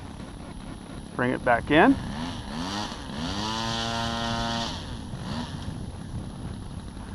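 A Hobbyzone Firebird Deltaray RC trainer airplane powers up into the wind, its motor whine rising and holding as a steady tone for a few seconds, with people talking nearby and brief voice bursts early on.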